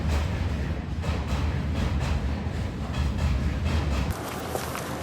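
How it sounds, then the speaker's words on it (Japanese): A train arriving from Russia rumbles into a station with a heavy, steady low roar and wind-like rushing noise, then the sound drops slightly as it slows. "オレグさんの家族を乗せた列車がロシアから到着しました"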